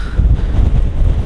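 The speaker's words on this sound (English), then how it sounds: "Ooh, wow, it is windy." Strong wind buffeting the microphone at the front of a cruise ship, a loud low roaring gust close up for a moment.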